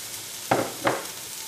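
Green chillies go into a pan of onion and garlic paste for Kerala-style ginger chicken, giving two short, bright sizzling bursts a moment apart, then a quiet background hiss.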